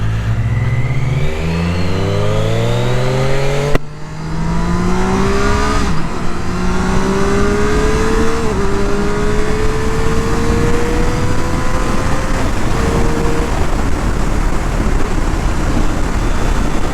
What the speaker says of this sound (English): I'm riding the Daytona now.